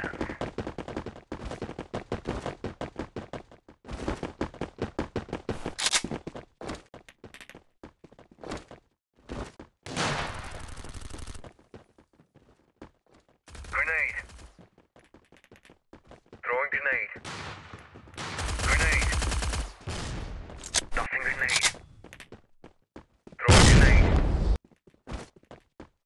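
Video game gunfire in a team tournament match, with rapid automatic bursts and single shots cutting in and out between moments of quiet, some louder blasts, and voices talking over the action.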